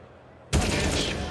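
Counter-Strike: Global Offensive gunfire from an AK-47 and a Desert Eagle during a PGL Major Stockholm 2021 final match on Nuke. It bursts in loud and sudden after a quiet lead-in, then holds as a dense, sustained barrage.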